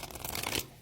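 Tarot cards are shuffled in a quick, dense riffle of papery flicks lasting under a second, close and fairly loud.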